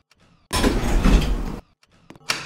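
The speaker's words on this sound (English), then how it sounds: "Doors closing." Elevator doors slide shut in a Roblox elevator game, making a loud, smooth whooshing slide of about a second followed by a few quiet mechanical clicks and a short closing thud.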